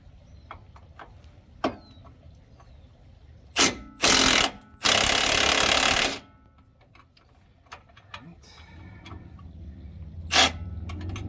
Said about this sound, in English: The hardest part of this is getting the wrench to fit on that top bolt.